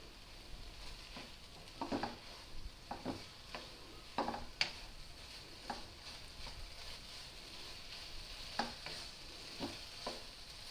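Pumpkin halwa roasting in a pan, with a steady low sizzle and irregular scraping stir strokes from a spoon against the metal, fairly quiet and close, with no voices.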